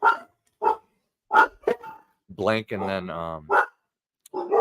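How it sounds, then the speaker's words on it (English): A dog barks at something outside during a live comics podcast, giving several short sharp barks and a longer whining yelp amid brief bursts of talk, fairly close to the microphone. "the dog just like started barking at something outside"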